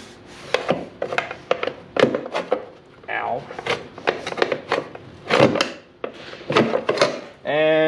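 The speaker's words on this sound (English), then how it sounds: "go ahead and slide this chain case cover back on" A chain case cover on a Ski-Doo 850 snowmobile is slid back into place in bursts of close scraping and rubbing. The irregular grinding strokes are broken by brief pauses, and a short tonal beep sounds at the end.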